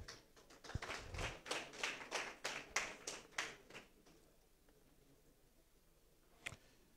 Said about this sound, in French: Kofitano Germain de Radio Trècheville, qu'on applaudit.